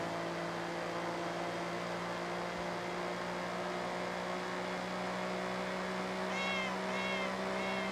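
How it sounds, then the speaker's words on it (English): A meowing car horn in the Forza Horizon 6 racing game, driven in Japan, sounds three quick cat-like honks near the end over a steady, droning engine hum. "A guy with this meow horn."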